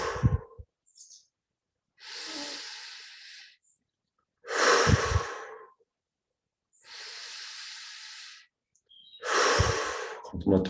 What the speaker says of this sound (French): On inspire donc par le nez. On expire par la bouche en détendant le corps.